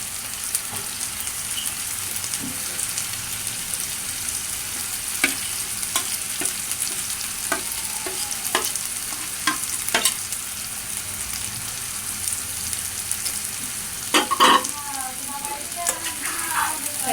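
Rested beef pieces for Bangladeshi beef korma fry in a pan with a constant close sizzle, broken by scattered sharp clicks and scrapes of stirring and a short cluster of louder clatter near the end.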